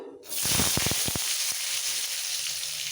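Potato pieces drop into hot oil seasoned with five-spice (panch phoron) and erupt into a loud, dense sizzle, with a few sharp crackles and stirring clicks early on before settling into a steady frying hiss.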